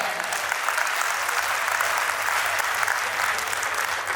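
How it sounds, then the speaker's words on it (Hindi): Loud, sustained audience applause fills a Diwali festival gathering of a Jain social group in Gwalior, a dense steady roar of many hands clapping throughout without a break. "एक बार जोरदार ताली"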